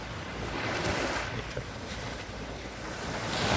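Sea waves wash onto Hat Sai Kaew beach, a white-sand beach, as a continuous broad roar of surf mixed with wind noise on the microphone, steady and fairly loud throughout.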